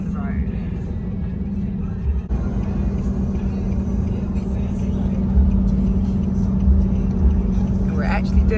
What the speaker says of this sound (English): Steve's doing a great job driving the truck down the road.